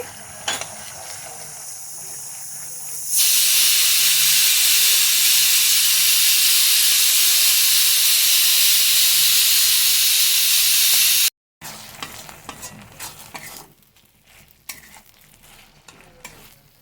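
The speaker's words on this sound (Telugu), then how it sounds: "అల్లం వెల్లుల్లి పేస్ట్ వేసి ఎలా వేయిస్తున్నాను" Loud, steady sizzling of ginger-garlic paste frying in hot oil, rising sharply after a quieter start, then cutting out and returning softer with scattered stirring clatter.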